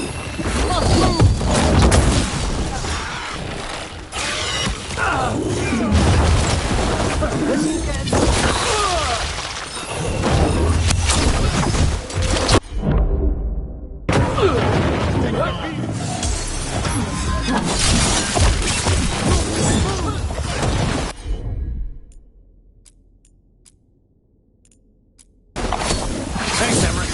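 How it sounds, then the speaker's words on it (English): Dense combat din from Dragon Age: The Veilguard: repeated shattering impacts, whooshes and booming explosions pile up loudly and continuously, broken by sudden silent gaps, with voices shouting underneath. "We're under fire!"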